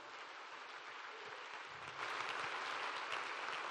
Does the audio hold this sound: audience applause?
yes